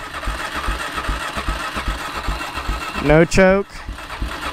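An ATV engine on choke with no throttle, cranking over in a steady rapid putter, then catching briefly with a louder rising rev near the end before dropping back. Someone speaks over it.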